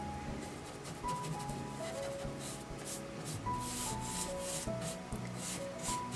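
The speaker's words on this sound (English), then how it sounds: "So I'm just basically stippling in and brushing out until it's smooth." A Dixie Belle French tip brush stipples and brushes out paint on a china cabinet, making soft repeated dabbing and scrubbing strokes up close while faint tonal music plays underneath.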